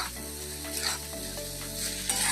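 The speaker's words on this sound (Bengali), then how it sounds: "একটু ভেজে নেবো 2 মিনিট" Bottle gourd with poppy seeds frying in a pan, a loud, steady sizzle with crackling and stirring scrapes across the short stretch, close up and without voices.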